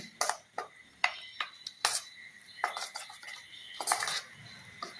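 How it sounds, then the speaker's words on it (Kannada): Metal spoon scraping and clinking against a bowl while jackfruit cake batter with chopped cashews and almonds is mixed, a series of sharp irregular taps and scrapes close by with quiet gaps between. "ಅದನ್ನು ಹಾಕಿದ್ಮೇಲೆ ಒಂದು ಸಲ ಚೆನ್ನಾಗಿ ಮಿಕ್ಸ್ ಮಾಡಿ."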